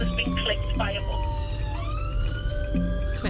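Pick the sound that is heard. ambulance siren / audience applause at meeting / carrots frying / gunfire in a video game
ambulance siren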